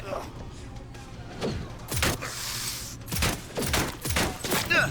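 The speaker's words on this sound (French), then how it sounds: "je l'ai tué en faisant ricocher mes balles" Gunshots with ricocheting bullets in Cyberpunk 2077 Phantom Liberty crack out as several sharp separate bursts of varying loudness, with a voice talking under and between them.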